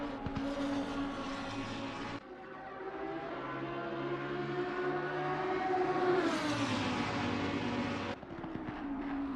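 Lamborghini Huracán Super Trofeo Evo race cars howl past at Monza, a loud sustained engine roar that rises and shifts pitch, with clear gear-change breaks around two and eight seconds.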